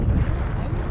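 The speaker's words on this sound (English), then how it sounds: "Be glad to get out of this wind." Strong wind buffets the microphone outdoors near the water while watching an otter, a dense steady roar with no voices.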